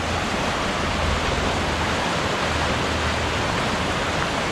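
A river rushes through a rock canyon in Ouray, Colorado, a dense, steady roar of whitewater that fills the whole stretch without pause, loud and close.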